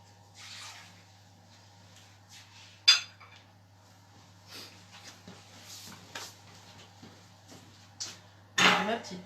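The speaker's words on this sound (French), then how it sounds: "Donc, je vais enlever ma casserole." Metal clanks and scrapes of a saucepan being shifted on a stove, with a sharp clink midway and a louder clatter near the end over a steady low hum.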